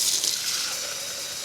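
Water pours onto a dish drying rack, a steady close splashing hiss that holds evenly throughout the brief moment.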